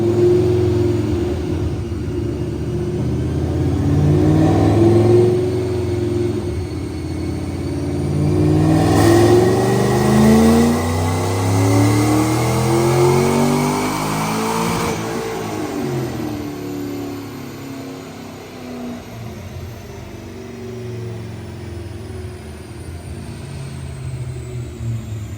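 A supercharged 2009 Ford Mustang 3V with a Paxton blower, headers and cams roars through a full dyno pull on a DynoJet, engine note climbing steadily in pitch, loud and close, then easing off as it winds down.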